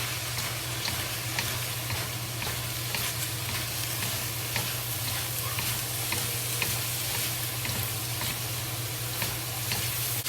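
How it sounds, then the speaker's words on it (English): Thinly sliced pork and green pepper stir-frying in oil, a dense continuous sizzle up close with a steady low hum beneath and faint intermittent stirring clicks, no voices. "Add the green pepper to it, and then fry it."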